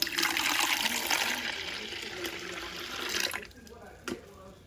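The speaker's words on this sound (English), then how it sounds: "In my pitcher, we're going to add in our tea." Brewed strawberry sweet tea pours steadily into a pitcher as a continuous, close splashing stream. It runs for about three seconds, then stops, leaving a few faint drips and clinks.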